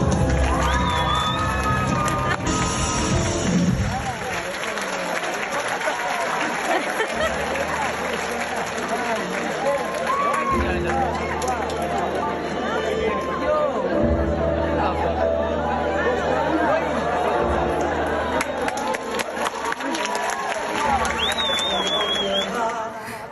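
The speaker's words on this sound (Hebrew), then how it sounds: "תנו לה כפיים, תנו לה." Theatre audience erupting in loud applause, cheers and excited chatter for a pigeon that wandered into the performance, a dense continuous crowd roar with scattered shouts.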